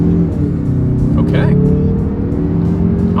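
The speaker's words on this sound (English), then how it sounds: "let's see how quickly the Mazda 3 hatch with the turbocharged engine here can get us up to speed" Turbocharged Mazda 3 hatchback engine pulling hard under acceleration from inside the cabin, a steady loud drone rising slightly in pitch, with a passenger voice briefly talking over it.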